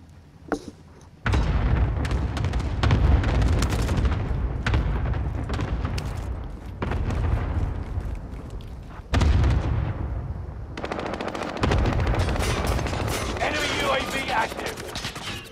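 Cluster strike explosions and gunfire rumble through a video game match, heavy booms and crackling bursts rolling continuously with several sharp onsets, while players talk over the battle.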